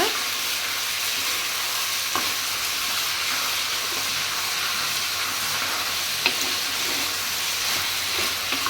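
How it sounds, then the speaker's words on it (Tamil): Vegetables for a Tamil home meal of brinjal kuzhambu and beetroot poriyal sauté in an earthen clay pot, giving a steady close sizzle with occasional soft clicks of a stirring spoon, no voices. "நல்லா மிக்ஸ் பண்ணி மிக்ஸ் பண்ணி நல்லா வதக்கிக்கலாம்"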